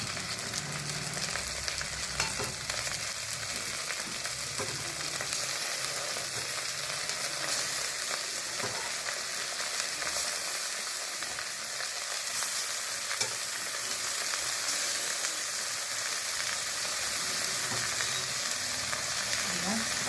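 Fish pieces frying in a pan of oil with garlic, a steady dense sizzle crackling throughout, loud and close, with no talking.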